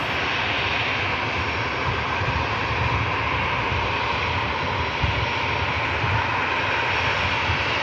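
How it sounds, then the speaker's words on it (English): A Luxair Dash 8 turboprop departs Manchester Airport, its engines giving a steady, loud, continuous roar that holds evenly for several seconds with no voices over it. "And we're going to get the Luxair Dash 8 out next. Shouldn't use a great deal of runway"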